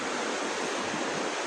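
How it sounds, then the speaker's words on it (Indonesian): A fast, strong river current rushes steadily at the Tapak Gajah Mada site, a dense, unbroken roar of water with no voices. "aliran sungainya cukup lumayan deras ya"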